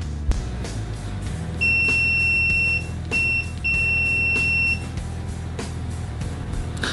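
A Kaiweets KM312B multimeter gives a loud, steady continuity beep close by, sounding as two long tones with a short blip between them. No one speaks.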